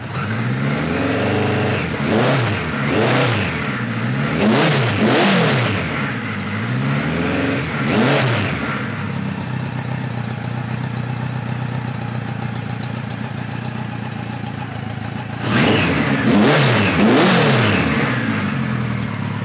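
A 1973 Kawasaki Z1 900 motorcycle with a four-into-four exhaust warms up close by, its engine blipped through several sharp revs that climb and fall, settling into a steady idle, then revving hard again.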